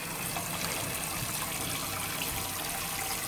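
Water trickles steadily into the full bowl of a rare 1957 Universal Rundle toilet in Dresden Blue, a continuous broadband hiss with no pauses throughout.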